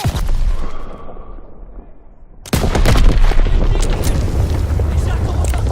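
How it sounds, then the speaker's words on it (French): Ammunition reserves blowing up in Call of Duty WWII during the Operation Cobra mission of 25 July 1944, heard as a sudden loud blast that settles into a sustained roar of rumbling explosions and battle noise. "Je vais sauter les réserves de munitions."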